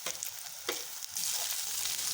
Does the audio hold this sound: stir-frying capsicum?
yes